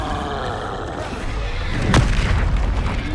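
Spell explosions from Bombarda and Confringo in Hogwarts Legacy, a rumbling game soundscape that swells into one loud booming blast near the end, deep and close.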